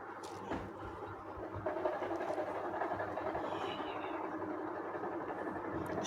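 The Howrah to Lal Kuan Superfast Express (12353) keeps up a quiet, continuous rumble as it runs, with faint rolling clatter and a brief knock near the start, and no voices.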